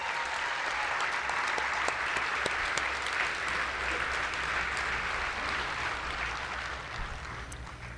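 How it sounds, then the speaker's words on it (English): A large audience at a US Air Force basic military training coin and retreat ceremony applauds. The dense, continuous clapping holds steady for the whole stretch and sounds somewhat distant and reverberant. "give yourselves a round of applause"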